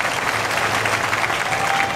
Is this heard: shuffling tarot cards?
no